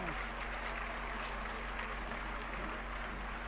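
A crowd applauds at a Jain Panchkalyanak religious gathering in Guwahati, producing a dense, continuous wash of many hands clapping, with a low electrical hum from the sound system running beneath it.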